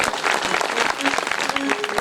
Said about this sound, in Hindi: जोरों से ताली बजाओ बाबा की